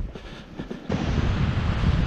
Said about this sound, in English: it's pretty windy down here now